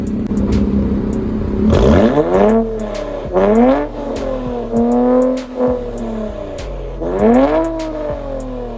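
A 2017 Infiniti Q60 Red Sport with a Boolin catback exhaust and AMS lower down pipes revs repeatedly, four or five loud, close throttle blips rising and falling over a steady idle, with no talking.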